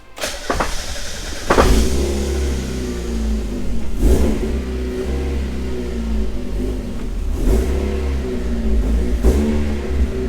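A Mazda Miata engine cranks and fires up, then settles into a steady idle broken by several sharp revs, loud and close with no talking.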